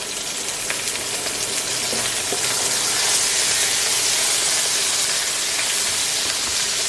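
Onions sautéing in oil in a pan for a meatball sotanghon dish: a steady, loud hissing sizzle runs throughout with faint stirring scrapes, no voices.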